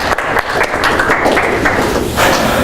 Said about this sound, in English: Clap to both of our volunteers.